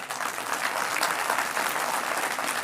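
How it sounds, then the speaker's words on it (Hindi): Steady, dense audience applause rings out at an even level throughout, with no voices on top. "ये तालियां उनके कानों में पड़ेंगी"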